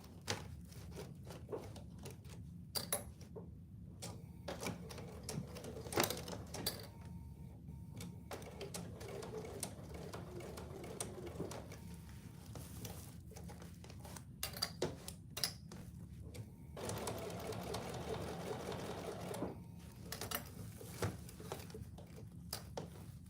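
Sewing machine top stitching thick fabric layers of oven mitts, running slowly in short irregular bursts of rapid clatter separated by pauses and handling noises, fairly quiet and close.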